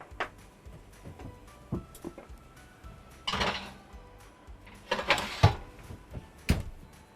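A baking tray of cheesy hash brown cups slides into a home oven, then the oven door shuts. A few separate metallic clatters and thumps sound close by in a quiet kitchen.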